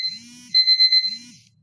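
An electronic alarm sounds close and loud, a shrill pulsing beep of several rapid pulses over a steady tone, with a low hum between the bursts.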